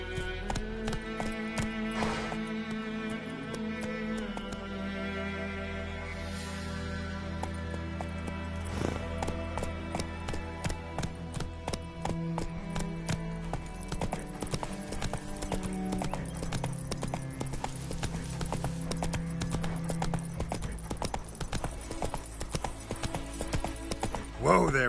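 Roach, the horse in The Witcher 3, gallops with fast, steady clip-clopping hooves throughout, under game music and occasional talk.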